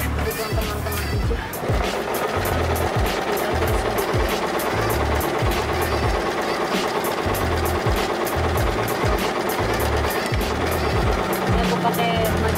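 A Riccar 987 portable sewing machine stitching in reverse, a steady, fast, rhythmic mechanical clatter running without a break from start to finish, close and loud.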